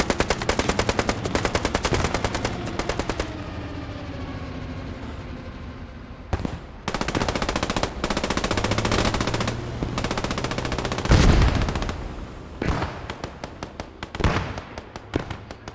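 A dive bomb attack in a multiplayer war video game, with long bursts of rapid automatic gunfire and heavy blasts that come in dense waves, loud and close, broken by a few short gaps.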